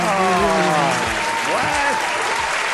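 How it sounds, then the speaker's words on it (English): An audience claps and cheers loudly and continuously after a song is performed at a live show, with a host's voice and a backing tone heard over the crowd. "A big round of applause."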